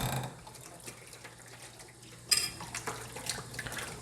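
Water runs and splashes as glass bottles are rinsed at a tap during water kefir making, a steady trickle with a sharper clink and splash partway through and continued rinsing afterward.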